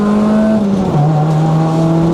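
A cammed SR20 engine with Tomei cams in a Nissan Almera GTi revs hard and loud, its steady droning pitch dipping briefly as it changes, heard from close by without talk.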